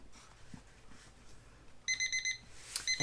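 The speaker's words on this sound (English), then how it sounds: "There's my timer." A kitchen-style timer goes off during a live fluid art auction. It gives a series of rapid, high electronic beeps in short regular bursts, starting partway through over quiet room noise.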